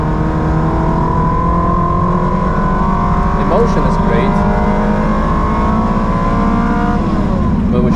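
A Ferrari 360 on a race track, its engine droning loud and steady throughout with a rising harmonic whine, while a person talks over it inside the car.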